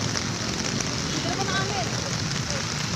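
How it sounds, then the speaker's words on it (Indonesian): Heavy rain and strong wind roar as a dense, steady broadband wash on a road in Sidoarjo where trees have fallen onto cars, constant and close with no breaks, and a voice speaks faintly underneath. "karena hujan angin sangat kencang dan sangat deras sekali"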